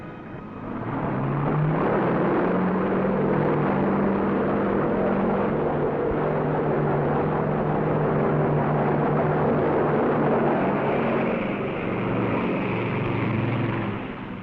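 A steady, loud engine roar of an S-2F Tracker aircraft builds and holds for several seconds as it launches from an aircraft carrier in 1962, with no voices present.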